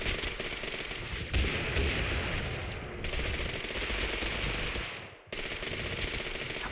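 An MP5K submachine gun fires in the video game TABG, loud, rapid sustained bursts with short breaks between them.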